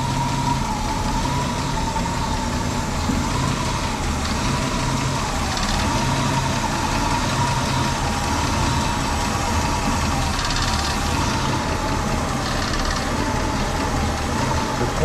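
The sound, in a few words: Ford Mustang 289 ci engine idling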